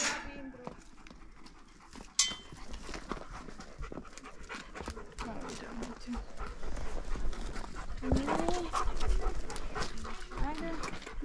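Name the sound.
dog panting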